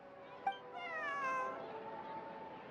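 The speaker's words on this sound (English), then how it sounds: "This is my friend's cat." A cat meows in the video game Genshin Impact: one long, drawn-out rising and falling meow, clear and fairly close over a faint background hum.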